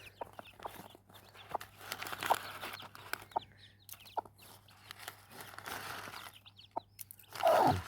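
A hen with fifteen newly hatched chicks clucks in short, scattered bursts at close range, with soft peeping and occasional louder calls near the end, no speech.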